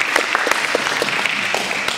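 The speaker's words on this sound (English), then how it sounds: "How about a round of applause?" Audience applause for city council members at a community meeting in Wimberley, Texas, a dense steady wash of many hands clapping that holds at an even level for the whole stretch.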